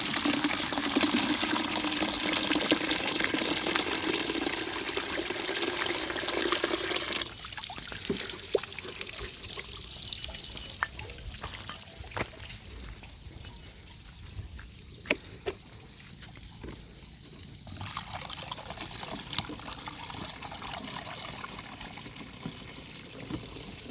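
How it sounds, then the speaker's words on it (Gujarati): Water pouring into a 16 litre sprayer pump tank, a continuous rushing fill that turns into a thinner trickle with occasional clunks partway through. "અને હવે આપણે પંપ જે છે એ 16 લીટરનો છે એટલે આપણે પૂરો ભરી વાળીએ."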